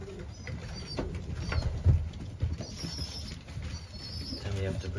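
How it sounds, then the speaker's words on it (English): Soft, low pigeon coos and light rustling, with a few faint chirps and a brief flutter, close by and fairly quiet. "Then we have the bird right here."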